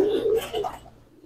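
A resting pigeon gives a short, close, low cooing call that swells and then fades out, with a little background noise.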